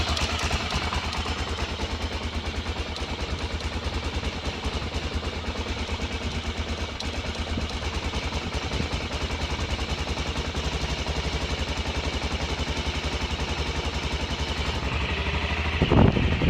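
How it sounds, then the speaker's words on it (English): A repaired BMW F650 Funduro single-cylinder motorcycle engine runs steadily nearby, a loud continuous mechanical clatter and rumble throughout with a brief sharper sound at the end. "That's the sound of an engine working."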